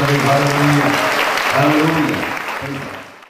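An audience at a church healing meeting claps continuously for a few seconds, loud and dense, then the applause fades out at the end, with a voice briefly audible over it.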